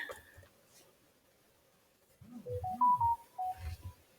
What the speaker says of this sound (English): Oops, let me turn off my phone.